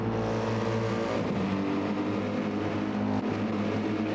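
GT7 race cars roar down the start-finish straight at Circuit de Barcelona-Catalunya on a warm day, a loud, dense, sustained engine drone from a pack of cars with steady tonal engine notes.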